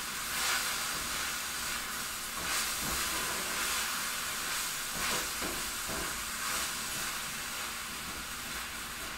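Broccoli frying in a wok, a continuous loud hissing sizzle with steamy crackle that holds steady throughout, close by and with no one speaking.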